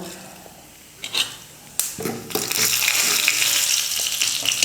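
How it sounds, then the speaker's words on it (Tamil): Mustard and cumin seeds crackling and sizzling in hot oil, starting with a few sharp pops and building into continuous frying crackle close by. "கடுகு பொரிஞ்சிடுச்சு"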